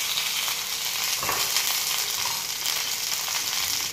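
Mustard seeds, cumin seeds and curry leaves sizzle hard in hot oil for a tempering, a loud, steady close crackle with a brief stir or shake in the middle.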